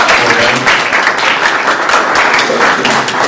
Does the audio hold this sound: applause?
yes